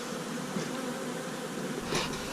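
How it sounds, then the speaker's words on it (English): A honeybee trapped inside a beekeeper's hat gives a continuous, close, fairly soft buzz on a warm winter day, with a brief louder swell near the end and no talk. "I've got a bee in my bonnet."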